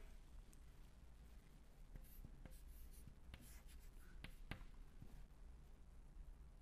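Chalk or marker taps and squeaks on a classroom board as an equation is written during a lecture, a faint, sparse series of short strokes over quiet room noise, with no talking.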